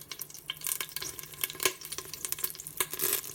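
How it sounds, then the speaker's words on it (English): Beef short ribs sear in a pot with a steady, close sizzle and crackle, broken by scraping stir strokes and light clinks, with no talking. "Now let's add the beef short ribs to the pot."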